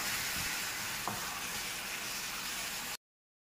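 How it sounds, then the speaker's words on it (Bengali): Chicken mince sizzles steadily in a hot pan over medium heat, a dense even frying hiss that fills the whole stretch with one soft scrape of stirring near the middle, then cuts off. "এবার আমি চিকেন কিমাটা দিয়ে মিডিয়াম আঁচ রেখে হালকাভাবে নেড়ে ছেড়ে নেবো।"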